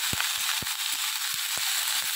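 Beetroot and carrot frying in a pan, a steady bright sizzle with a few soft thuds and knocks, close and continuous, no voices.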